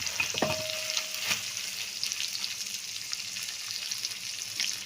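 Soft steady sizzle of chopped garlic, onion and ginger frying in a pan with cumin and leaves, with light stirring clinks over the hiss, close and even.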